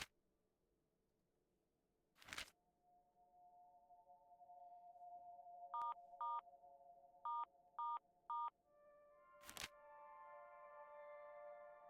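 Telephone keypad dialing in a horror video game: five distinct DTMF beeps in a short irregular sequence, set against a steady electronic hum, with sharp loud bursts just before and after the tones.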